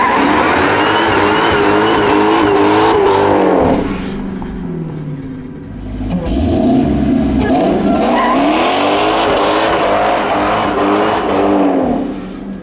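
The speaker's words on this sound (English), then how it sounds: "I've driven the only wide-body Hellcat Charger manual trans on the planet" A wide-body Dodge Hellcat Charger with a manual transmission, rated at 850 hp, revs hard and squeals its big Mickey Thompson tires. The engine roar rises and falls with a brief lull partway through, close and loud, with no talking.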